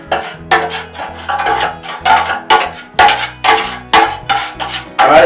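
Drywall compound being mixed with cold water to a peanut-butter consistency, heard as a steady rhythmic scraping and slapping about twice a second. The tool knocks against the container, loud and close.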